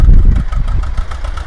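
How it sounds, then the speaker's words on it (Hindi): An old Escort 335 two-cylinder 35 hp tractor with a tiller attached runs close by in a farm field, a loud low throbbing engine rumble with a steady pulsing beat. "और भाई ट्रैक्टर के बारे में बता दूं, ये 2 सिलेंडर ट्रैक्टर है"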